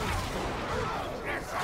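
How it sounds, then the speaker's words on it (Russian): Explosions and clashing blows in an arena fight in Middle-earth: Shadow of War sound as a dense, rumbling barrage of booms, continuous and loud across the short clip with no voice. "сразу пошли взрывы"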